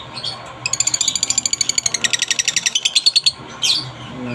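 Pet parrots, green pale-fallow opaline birds, let out a fast, loud burst of rapid chattering chirps close by, a rhythmic trill of sharp repeated notes ending in a brief squawk.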